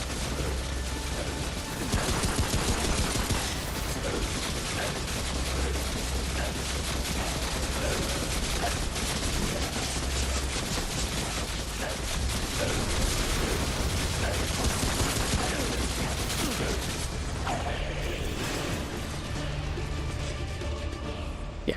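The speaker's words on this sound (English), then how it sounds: "you don't expect a boss to summon the same turrets you summon" Boss-summoned turrets in the video game Remnant: From the Ashes, a dense, continuous barrage of rapid gunfire with clattering mechanical impacts throughout.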